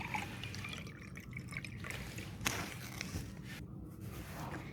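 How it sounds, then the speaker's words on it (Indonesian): Water pours from a bottle into a glass, a steady trickling and splashing stream heard close up and fairly quiet, with no voices. "Air mengalir saat kita tuang ke dalam gelas."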